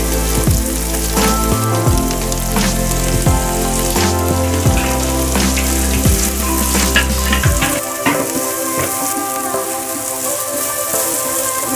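Dried small shrimp (udang rebon) stir-fried in hot oil, a steady loud sizzle with a low humming tone underneath for most of the stretch, continuing without pause and with no talking.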